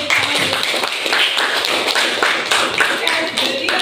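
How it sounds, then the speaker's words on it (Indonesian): Students applauding in a classroom during a lesson, a steady patter of many hands clapping close by with a few voices talking over it. "Kita kasih tepuk tangan."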